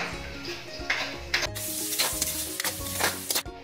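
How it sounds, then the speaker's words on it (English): Onion and garlic sauté in rendered fat over a high flame, a steady close sizzle with scraping stir strokes and brief utensil clatters against the pan, no voices. "Add 3 cloves of garlic and continue to sauté for about 10 seconds"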